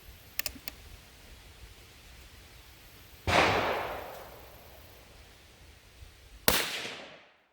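Two sharp rifle reports from a restored Stevens 44 firing lighter Sierra bullets, each a loud crack with a long decaying echo across open ground, a few seconds apart, after some faint clicks.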